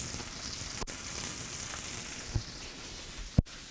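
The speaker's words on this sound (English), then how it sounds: "We're going to just braisen this a little bit in bacon grease." Burger patties fry in bacon grease in a pan, a steady close sizzle with a few sharp pops and ticks scattered through it.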